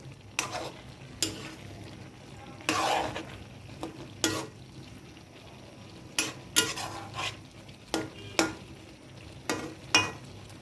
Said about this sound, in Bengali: এখন বাগার দিই খুব সুন্দর কালার হয়ে